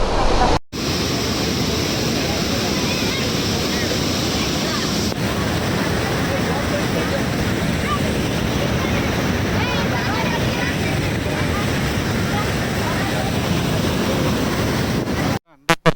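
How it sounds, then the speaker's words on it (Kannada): Loud, unbroken roar of water gushing powerfully from the Hemavathi Dam spillway at Gorur, heard nearby, constant throughout with wind buffeting the microphone. "ನೀರು ನೋಡಿ ಹೆಂಗ್ ಹೊಡಿತೈತೆ ಹಂಗೆ ಸಗಾಲ ಹೊಡಿತಾ ಇದಲ್ಲ"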